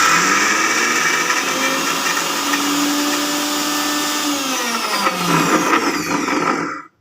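A blender grinds soaked matar dal (pea lentils) with no water added, a loud, steady whirring motor drone running continuously for about seven seconds before cutting off abruptly.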